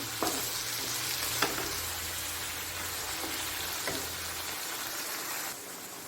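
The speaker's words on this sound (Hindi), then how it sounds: "गोश्त की अच्छी तरह हमने बुनाई करनी है" Beef pieces stir-fried (bhuna) in a pan for namkeen gosht, a steady loud sizzle and fry hiss running throughout, with a few sharp scrape clicks of a stirring spoon against the pan.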